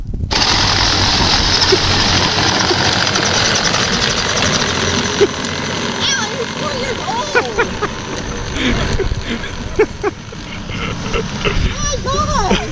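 A modified 24-volt Power Wheels Jeep Hurricane toy car runs with a steady buzzing electric-motor whine and rattling, while people talk and call out over it.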